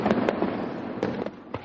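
Fireworks exploding at night, a series of sharp cracking bangs at irregular intervals over a continuous crackling rumble, loud and fairly close.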